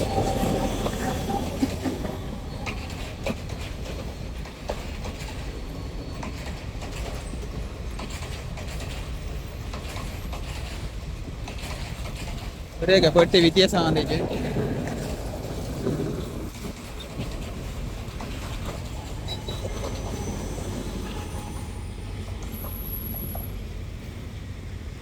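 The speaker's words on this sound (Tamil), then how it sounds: "ட்ரெயின் வருது பாருங்க" A train in Colombo rolls past with a steady rumbling clatter and a brief louder burst of screeching wheels midway, while a person speaks briefly.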